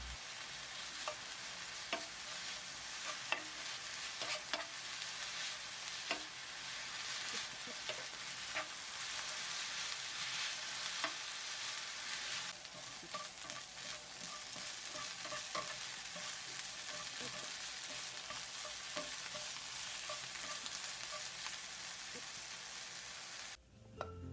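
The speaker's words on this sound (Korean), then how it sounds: "고기 육즙이 배이게 섞어주면서 볶아주세요" Continuous sizzling and crackling of meat and shiitake mushrooms stir-frying in a pan with soy sauce, with intermittent scraping and stirring clicks, steady and fairly quiet throughout.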